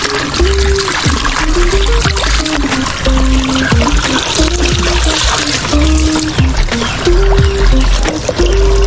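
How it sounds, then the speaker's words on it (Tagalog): During heavy rain, rainwater overflows from a tap pipe in a loud, continuous stream. Repeated gurgling drips rise and fall in pitch over dull thuds, close and unbroken. "gripo dito sa amin kapag putag ulan halos mapuno po yung tubo niya lumalabas yun po oh"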